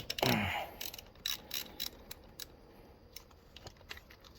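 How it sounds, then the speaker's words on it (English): A ratchet turning a 3/4 deep socket to break loose a coolant temperature sensor on a Honda D-series engine gives off a sharp close clatter at first, then scattered light ticks and clicks, with no talking. "what you need is a 3/4 deep socket and a ratchet"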